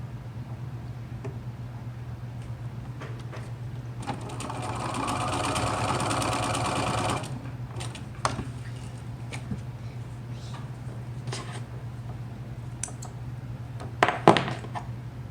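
A sewing machine stitches a short run on a fabric face mask, a fast buzzing whir lasting a few seconds over a steady low hum, followed by faint clicks and handling noises.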